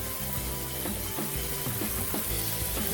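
Snapper frying in hot oil in a large pan, a dense continuous sizzle with popping and crackling, close and loud, no talk.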